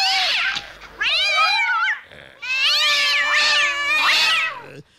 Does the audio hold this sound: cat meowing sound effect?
yes